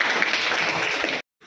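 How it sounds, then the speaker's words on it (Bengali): Audience applause for a quiz team captain, a dense burst of many hands clapping that cuts off abruptly into silence. "আরেকবার দীপের জন্য একটা হাততালি।"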